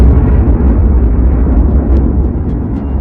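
Explosion sound effect for a giant cosmic blast, a loud, dense rumbling roar sustained throughout with low booming texture and no voices.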